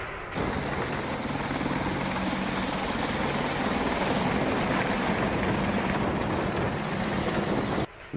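Boeing Apache attack helicopter at a factory flight-test site, its loud, steady rotor and turbine roar filling the air and holding constant before cutting off near the end.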